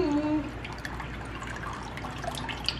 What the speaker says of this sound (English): So I'm gonna add some soy sauce to the water.